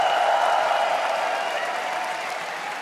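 Cheering and applause from an esports tournament crowd at a Berlin Major, a broad wash of clapping and noise that slowly fades over a few seconds.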